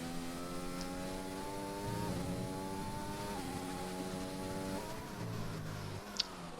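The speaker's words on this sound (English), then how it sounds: "I hope they could hear us before when the engine sounds are too loud." Race car engines drone loudly during a video game race, their steady buzzing tones shifting pitch in steps as gears change, with one sharp click near the end and no talk.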